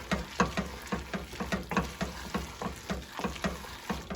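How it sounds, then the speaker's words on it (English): Repeated rhythmic scraping and stirring as powdered cheese is worked into a pot of beefy mac and cheese, steady strokes roughly twice a second, close and moderately loud with a faint hiss underneath. "And then we stir in our powdered cheese. Got a good stir."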